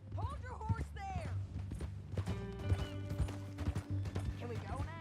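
Horse hooves clip-clop in Red Dead Redemption 2, a steady plodding rhythm running beneath a voice and background game sounds and music throughout.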